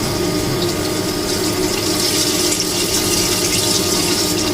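Pork bones for a squash soup rinsed under a running kitchen tap, a steady close rush of flowing water that continues throughout with no voices.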